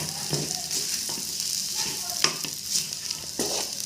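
Fish semiya sizzles while being stirred in a frying pan, a steady hiss of frying with soft scraping stirs every half second or so, fairly close and quiet.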